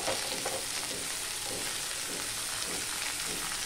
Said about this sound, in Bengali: এখন আমি এই কেটে রাখা ঝিঙে এগুলো আমি দিয়ে দিলাম